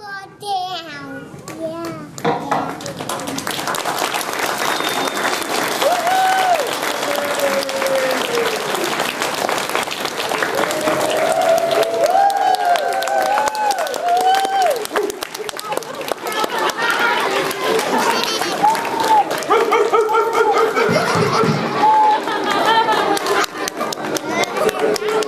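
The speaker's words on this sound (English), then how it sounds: "Get another round of applause" An audience at a community Christmas event applauding at length, sustained clapping mixed with children's voices, shouts and chatter throughout, fairly loud and close.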